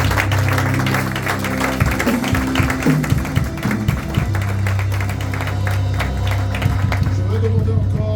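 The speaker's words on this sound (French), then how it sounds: "Quelqu'un acclame fortement le Seigneur." A church congregation applauds and acclaims the Lord with dense, sustained clapping and cheering, over a low, steady musical backing.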